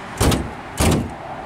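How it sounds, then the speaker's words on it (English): Two heavy thuds from the hood of a 1987 Buick Grand National being closed, close and loud, about half a second apart, with no talking. "I'll just close the hood here."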